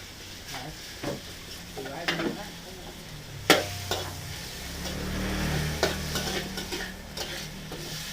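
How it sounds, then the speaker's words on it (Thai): Chicken pieces for chicken macaroni sizzle as they are stir-fried in a hot pan while a utensil scrapes and stirs, with sharp metallic clinks at irregular intervals. "เรามาผัดไก่กันเลยนะครับ"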